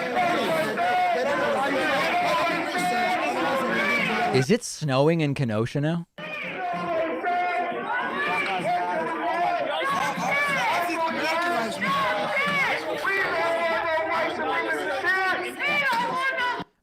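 Dense, continuous crowd chatter and babble outside the Kenosha courthouse as people await a jury verdict. One voice speaks over the crowd, and there is a short break in the noise partway through.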